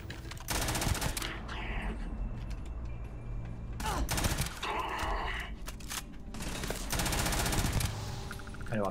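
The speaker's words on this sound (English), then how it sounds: "I know I missed a lot of those shots right there." Rapid automatic gunfire in the Starfield space video game, dense loud bursts of shots crackling almost continuously over a steady game soundtrack background.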